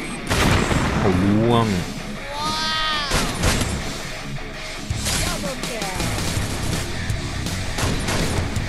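Gunfire in a 4v4 shooting video game, bursts of shots and booms mixed with excited talking and shouting from players throughout.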